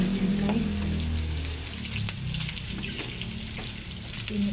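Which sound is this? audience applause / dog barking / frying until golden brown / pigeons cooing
frying until golden brown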